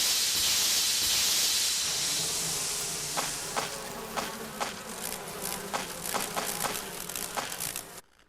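Dense insect swarm buzzing from bees in the Resident Evil remake video game, a loud hissing drone that gradually fades, broken by repeated sharp clicks before cutting out at the end.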